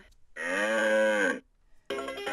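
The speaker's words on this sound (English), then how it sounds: "Hear a cow sound." A toy plays a cow's moo, one long clear sustained call followed by the start of a second tone, with no talking.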